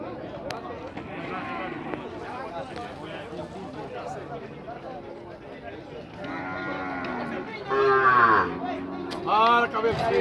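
Cattle moo and shuffle as they are let through a gate at a cattle fair in Tabira, Pernambuco. The lowing is loudest near the end, and crowd babble and a voice run throughout.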